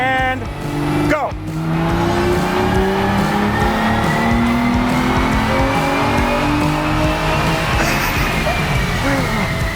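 An exotic car revs to 3,000 RPM and launches hard, engine roaring loudly as tires squeal and the pitch climbs steadily through the run, sustained and close.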